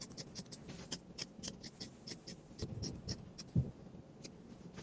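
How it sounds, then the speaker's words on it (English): Scissors snip through stretchy fabric along a line in a quick series of close, crisp cuts, with faint rustling in between and no talking. "So I'm going to cut right along this line here."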